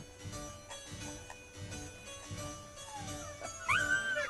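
Faint, distant dog sounds pulse rhythmically in a quiet setting, ending in a thin, rising and wavering howl-like wail.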